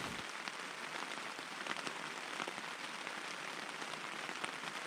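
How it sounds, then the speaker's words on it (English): Heavy rain pouring down on a tent on a wet summer night by Loch Linnhe, a dense, steady hiss of drops drumming on fabric with scattered sharper patters, alone and close. "went to bed just as the rain started to pour down"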